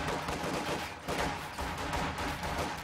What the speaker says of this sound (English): MG34 desperately trying to suppress something